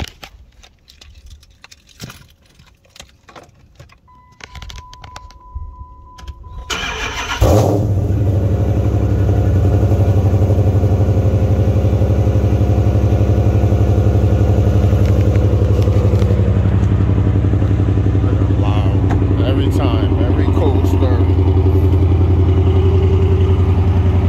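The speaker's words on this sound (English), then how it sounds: "let's go home and start this car up for a second" A car engine cranks and catches after a few seconds of quiet outdoor rustling and clatter, then settles into a loud, steady idle, heard up close on a windy day.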